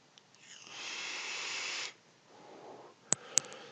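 A long airy hiss of breath drawn in and pushed out, fairly faint and close, followed by a couple of sharp clicks.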